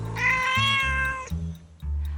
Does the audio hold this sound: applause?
no